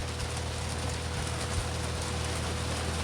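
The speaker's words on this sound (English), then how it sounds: "do you hear the rain?" Rain falling in a steady, even hiss of drops with low background hum, continuous and fairly faint, with no one speaking.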